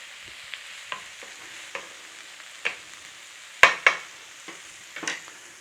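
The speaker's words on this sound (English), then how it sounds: "I'm going to just give that a little stir fry for a minute before adding the rest of the spinach leaves." Spinach being stir-fried in a pan: a soft steady sizzle under repeated close scraping and tossing strokes at an uneven rhythm, with no voices.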